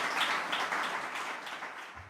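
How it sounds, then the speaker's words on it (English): Audience applause after a motivational talk, a dense steady wash of clapping that holds fairly loud and then thins out near the end. "Another round of applause."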